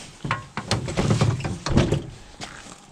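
A vehicle door opened and shut outdoors in snow near a shop, with several solid thunks and latch clunks in quick succession, close and loud, no talk.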